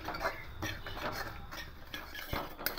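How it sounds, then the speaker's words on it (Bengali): Semolina dry roasting in a pan while being stirred, a close rhythm of scraping and clinking of the spoon against the metal, repeating steadily throughout. "এইভাবে শুকনো খোলায় সুজিটাকে প্রথমে হালকা করে একটু ভেজে নেব"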